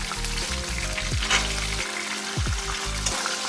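Soaked chickpeas fry in a pan with mustard seeds, a loud close sizzle with bursts of popping and crackle, briefly stirred.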